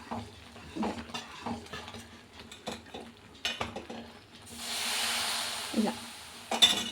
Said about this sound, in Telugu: మనం కాంచిన నూనెని ఇలా పోసుకుంటూ కలుపుతూనే ఉండాలి